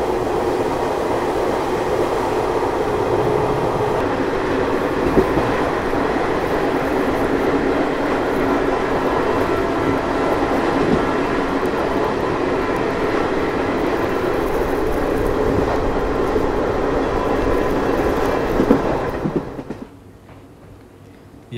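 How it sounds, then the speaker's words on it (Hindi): Samta Express train running through hills in Chhattisgarh, a steady loud rumble of wheels and carriage noise that holds for most of the clip, then drops away sharply near the end. "यहाँ हमारी ट्रेन दोस्तों पार कर रही है हरिशंकर रोड को"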